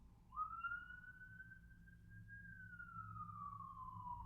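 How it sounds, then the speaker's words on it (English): An ambulance siren passes at a distance, one long rising and falling wail over a low rumble of traffic, faint and steady with no talking. "I'm hearing an ambulance coming by"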